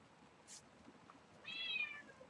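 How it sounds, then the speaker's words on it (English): A cat gives a brief, faint chirp and then a clearer rising-falling meow, close by in a quiet indoor room. "You just gonna keep meowing at me today?"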